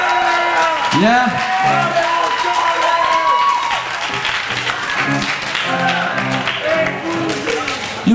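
Crowd at the 1998 Brown Trout Festival in Alpena claps and cheers for a rock band, a steady loud wash of applause with scattered whoops running under someone talking over it.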